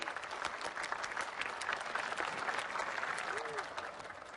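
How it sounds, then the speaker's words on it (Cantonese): Applause from an assembled school crowd welcoming a new principal, steady sustained clapping that fills the whole stretch and tapers slightly at the end. "我哋掌聲歡迎林校長為我哋致訓詞"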